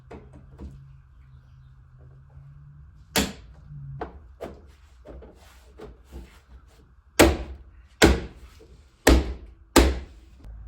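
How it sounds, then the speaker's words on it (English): Trim pieces being fitted onto car doors during a cheap car flip, heard as a series of sharp thunks and snaps, with a few isolated knocks early on and then a loud cluster of four firm slaps near the end. "So next thing we're gonna do is throw these trim pieces on the doors right there."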